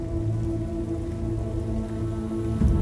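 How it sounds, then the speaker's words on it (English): Heavy rain pours steadily on surfaces outdoors in Britain before a dawn launch, a dense continuous hiss and patter, fairly close and loud with no voices. "it started to rain heavily"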